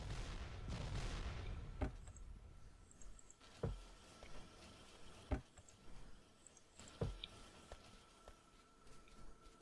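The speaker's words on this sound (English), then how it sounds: "Those gun turrets can't do anything." Gun turrets in Factorio fire in a handful of sharp, spaced bursts against a faint, busy background, with no talking.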